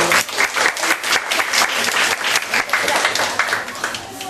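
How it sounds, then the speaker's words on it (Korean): Audience applause as a group is welcomed during a topic-discussion session at a family worship school, dense, loud clapping from many hands sustained throughout, with a little indistinct voice mixed in. "이제 3조 박수로 맞아주십시오."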